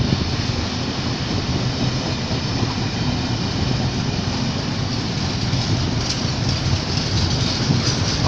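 Train at Cardiff Central station, a loud continuous rumble of a passing or idling train with rolling wheel noise filling the whole stretch, steady and close.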